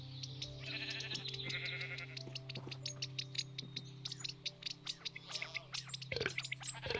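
Sheep bleat repeatedly in Minecraft on a farm in early spring, short wavering cries coming in several bursts over a steady background hum, with some clicks toward the end and no talking.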